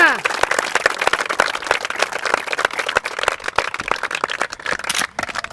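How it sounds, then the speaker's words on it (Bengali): Students at a CISF success celebration are met with steady, dense clapping from a crowd, a bright continuous patter of many hands, fairly loud and unbroken throughout. "সব ছেলেমেয়েদের জন্য জোরদার তালিয়া।"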